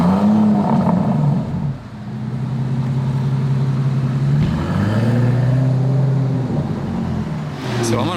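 A sports car accelerates away on a Monaco street, its engine note rising and falling in a steady mid-pitched drone with a voice talking over it.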